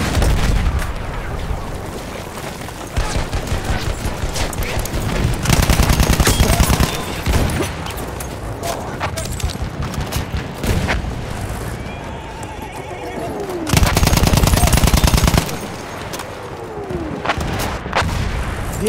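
Battlefield 1 gameplay with rapid machine gun bursts and other gunfire mixed among horse whinnies and clip-clopping hooves, loud and dense, with occasional game voices in the background.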